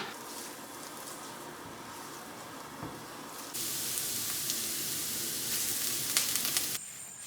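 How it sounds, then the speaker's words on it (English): Onions sizzle in olive oil, a steady crackling hiss that grows louder partway through, with faint pops, then drops off near the end. "I am going to just cook these onions down a little bit in some olive oil."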